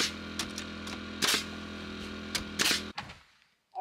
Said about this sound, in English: Sure is nice to use a nail gun.